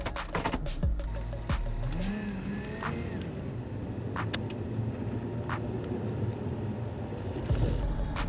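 Inside a Chevrolet Bolt EV electric car as it starts driving, a soft steady road rumble and tire noise fills the cabin, broken by a few faint clicks and light knocks.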